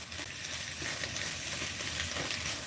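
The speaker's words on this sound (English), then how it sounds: "It's sizzling good in there" Vegetables for chicken lo mein sizzle in a hot pan, a steady crackling hiss that stays even and close with no talking over it.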